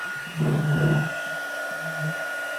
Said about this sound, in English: So I'm just going to pop on my heat gun now. It's going to be a little bit noisy